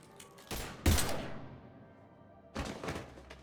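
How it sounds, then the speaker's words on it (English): Video game gunfire in Mass Effect Legendary Edition: two loud bursts of rapid shots with booming impacts, one early and one near the end, separated by a quieter stretch of fading echo. "Now open fire!"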